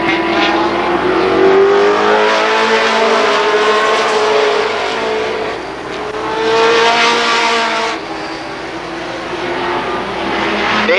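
Super late model stock cars racing at Columbus Motor Speedway, loud engines roaring and rising in pitch as the pack passes close by, with the drone swelling and fading in waves across the run; no talk.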